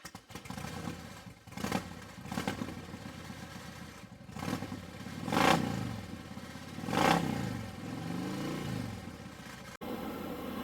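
A motorcycle rides along outdoors, its engine droning steadily and swelling in a few louder revving surges, with wind and road noise throughout and no talking.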